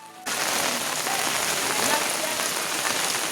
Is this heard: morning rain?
yes